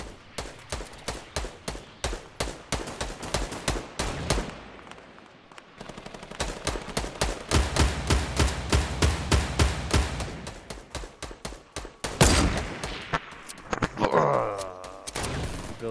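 Rapid bursts of video game gunfire and flame shots fill a 50v50 battle, with dense repeated shots that stop briefly mid-way, then return loud and close alongside sharp impact sounds.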